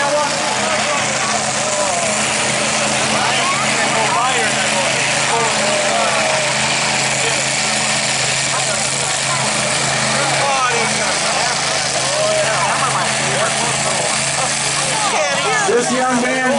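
A pro stock diesel pulling tractor, the Iron Toy from Dayton, Iowa, roars at the NTPA Power Pull Nationals 2019 in a loud, sustained, unbroken engine drone lasting the whole stretch, with an announcer's voice over it.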